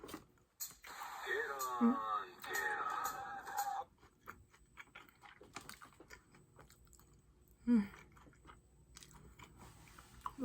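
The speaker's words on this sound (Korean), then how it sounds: "아, 너무 맛있어가지고 하나 더 먹어야겠어" Crunchy bites of Bburinkle cheese balls being chewed up close, two bursts of crisp crunching early on and another brief bite later, separated by quiet pauses.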